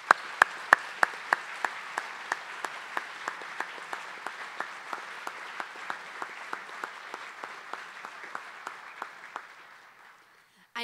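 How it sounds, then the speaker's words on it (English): A round of applause at an engineering excellence gala, heard as a crowd clapping together with a few sharp, evenly spaced claps standing out. It carries on for about ten seconds, fades toward the end, and then a voice begins. "Can we give Mike another round of applause,"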